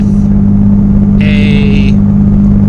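Turbocharged V6 Ford Mustang with a 500 HP build driving steadily, a constant low engine drone with a thin gear whine rising briefly in the middle, loud and close throughout.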